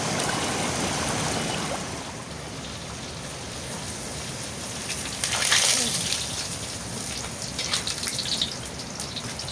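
Rain pours over rice paddy fields in a village, a broad steady roar of water with a brief louder surge midway, loud and continuous with no clear speech.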